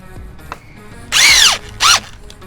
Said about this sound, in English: you always want to make sure that you pre-drill your holes